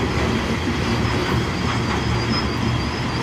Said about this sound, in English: This is nice to see the train.